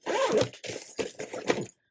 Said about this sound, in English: Once you zip it up